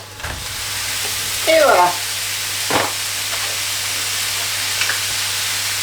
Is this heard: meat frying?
yes